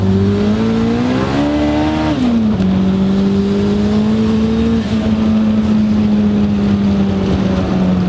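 Turbocharged Honda EG hatchback accelerating hard under full boost, its engine drone rising in pitch, dipping briefly at a gear change, then climbing steadily again; loud, close and continuous with no talking.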